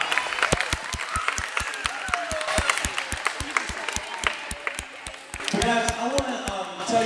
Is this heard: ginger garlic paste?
no